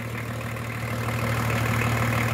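A BMW E36 325 TDS with the M51 diesel engine runs close by, a steady droning hum with strong low harmonics that grows slightly louder toward the end.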